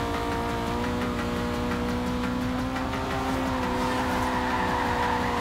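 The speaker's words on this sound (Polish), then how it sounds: "Driftuje, kurczę, jak samochód z tylnym napędem." Honda Civic Type R drifting in Forza Horizon 2, a steady engine drone with harmonic whine under continuous tire skidding and scrubbing, loud and close throughout with no voices.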